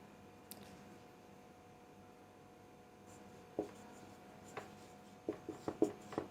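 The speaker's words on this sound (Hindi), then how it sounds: "यहां पर हम लोग लिख लेते हैं" A marker or chalk writes on a board during a chemistry lesson: faint room hum for several seconds, then a few short scratchy strokes building into quick clustered scribbles near the end, with no voices.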